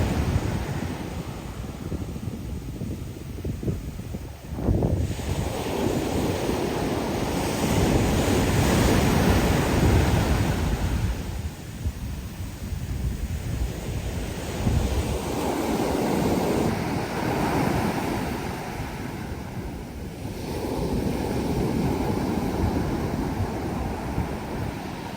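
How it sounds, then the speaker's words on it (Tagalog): Strong ocean waves crash against the shore in repeated surges, heavy and close, mixed with gusting wind buffeting the microphone. The roar swells and fades over and over, and no voices are heard. "Basang-basa na si Daddy. Malakas ang alon."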